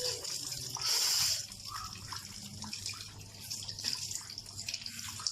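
Tap water runs steadily during ablution, a close, continuous splashing stream that gushes louder for a moment early on, then settles into a softer flow.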